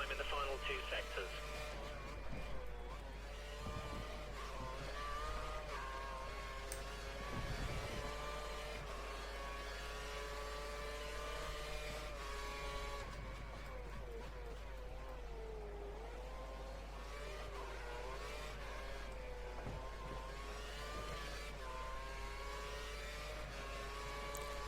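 Formula One race car engine in the F1 2013 racing game, a sustained high-pitched whine rising and falling with gear shifts during a practice lap, continuous and prominent throughout.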